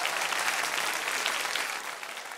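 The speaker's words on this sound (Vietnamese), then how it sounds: "Vỗ tay lớn lên cho nhóm Mạnh Hổ" A studio audience at a televised music and martial-arts competition claps steadily for a performing group. The dense applause holds strong and then eases slightly toward the end.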